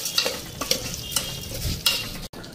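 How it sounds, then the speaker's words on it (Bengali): Moong dal frying with ginger, dried chilli, panch phoron and cumin, with a soft sizzle under repeated stirring scrapes in the pan, close and fairly quiet. "এখন মশলার লগে মুগ ডালটা একটু ভাজা নিই।"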